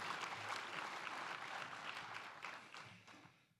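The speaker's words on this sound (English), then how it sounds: "So give them a nice round of applause and give them our thanks." Audience applause at a baseball lunch event, a dense steady clapping from a room full of people that gradually tapers off near the end.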